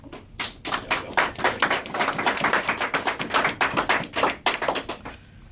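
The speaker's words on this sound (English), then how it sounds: "Friends and family, let's give them a round of applause." Dense, steady crowd applause with many overlapping claps, sustained throughout at moderate loudness.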